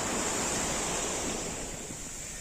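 Waves washing onto a sandy Tyrrhenian Sea beach at Torvaianica, a continuous loud rushing surf with wind, slowly easing toward the end, no voices.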